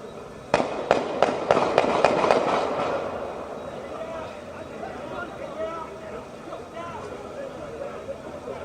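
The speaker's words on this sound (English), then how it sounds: "There's the shooting." Gunfire rings out in the CHOP zone as a rapid string of about eight sharp, loud bangs in under two seconds. A reverberant tail follows, with voices in the background afterward.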